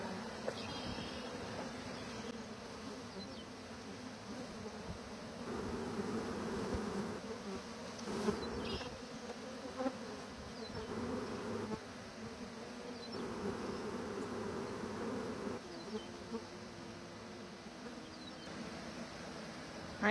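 Large spring swarm of bees buzzing in a dense, continuous drone, close and steady for the whole stretch, with no voices over it.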